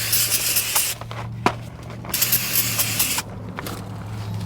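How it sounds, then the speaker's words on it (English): Brake cleaner hisses from an aerosol can onto a new front brake rotor of a 2011-2016 Hyundai Elantra during a brake job, loud close bursts of spray broken by brief pauses and a few clicks, over a low steady hum. "We want to take a little brake clean, spray it down"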